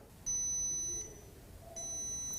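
A drone detector emits two long, high-pitched steady beeps separated by a short pause, fairly faint against quiet background noise.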